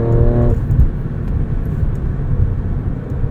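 A 2022 Alfa Romeo Stelvio Quadrifoglio in manual mode, its engine note dropping sharply as a gear changes early on, then settling into a loud, steady rumble from inside the cabin.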